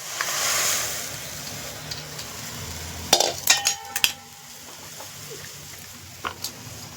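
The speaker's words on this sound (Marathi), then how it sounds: "आता कसं उकळतंय बघा." Chicken soup seasoned with black pepper powder bubbles in a cooking pot, a soft steady seething hiss with a few brief metallic clinks of utensils near the middle, and no voices.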